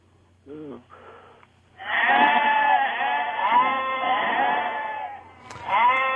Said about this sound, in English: my ringtone is a large herd of sheep